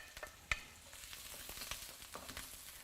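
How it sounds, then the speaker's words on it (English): Salted radish sizzles quietly while stir frying in a pan for char kuey teow, with scattered small pops and crackles, one sharper pop standing out, close and soft with no talking. "You'll hear the popping sound once you start stir frying."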